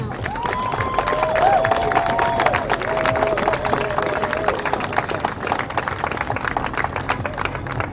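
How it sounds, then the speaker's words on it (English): A crowd at a 2020 Black Lives Matter protest in Joliet, Illinois claps and cheers for the organizers, sustained applause throughout with a voice speaking over the noise. "Please give them a round of applause now."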